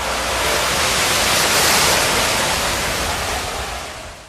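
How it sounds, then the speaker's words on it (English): A cup of water poured onto a burning hot oil fire sets off a loud, steady roaring whoosh of flame lasting several seconds, swelling slightly and then easing off. "Here, we are going to add 1 cup of water to a hot oil fire."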